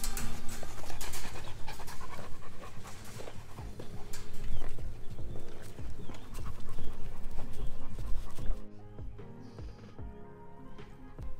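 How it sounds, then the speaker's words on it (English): Adult Great Pyrenees dogs on a small farm with a new puppy pant in rapid, continuous breaths close by, with some shuffling and hoof-like clopping in the background. "our adult Great Pyrenees are amazing with the new puppy, with May"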